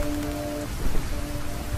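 An animated fairy tale rainstorm: a dense, steady wash of rain falling on surfaces, with a faint low rumble of thunder and a soft sustained tone underneath.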